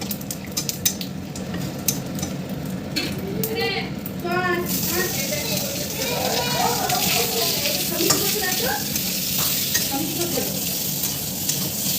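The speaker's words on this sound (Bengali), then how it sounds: "ফোড়নটা একটু ভাজা হলে" Cinnamon, clove and cardamom frying in oil for paneer, a steady sizzle with spoon and pan clatter, a voice talking over it and children faintly in the background.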